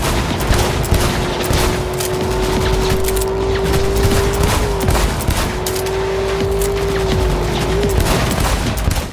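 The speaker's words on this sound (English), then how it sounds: "After a few very impressive explosions" Rapid bursts of gunfire and booming explosions in the video game Cyberpunk 2077 crackle continuously, loud and close, with a steady engine-like drone running underneath.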